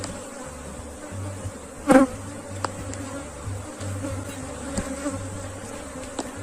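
A honeybee swarm, the main cluster of bees from a split colony, drones in a steady low buzz close by, with one brief louder knock near the start and a few faint ticks scattered through.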